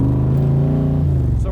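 Engine of a 1965 Shelby Cobra Backdraft revving under a light touch of the accelerator, a loud, close, steady deep rumble with rich low harmonics that holds throughout.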